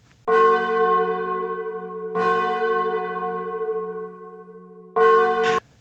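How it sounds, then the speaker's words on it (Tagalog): A church bell tolls three times, each deep resonant strike ringing out and slowly fading before the next, loud and clear. "Habang tumutunog ang kampana"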